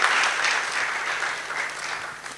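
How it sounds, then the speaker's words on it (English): A round of applause for panelists at a discussion event, fairly soft and even crowd clapping that tapers slightly toward the end. "Let's give them a round of applause."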